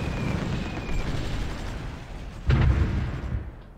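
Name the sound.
artillery firing in the video game Supreme Ruler Ultimate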